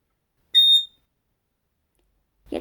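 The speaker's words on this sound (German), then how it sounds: "Und der höchste Ton ist nun wirklich sehr hoch." A garklein recorder, the smallest recorder, sounds its highest note: one short, shrill, whistle-like tone lasting about a quarter second, followed by silence and a brief low noise at the end.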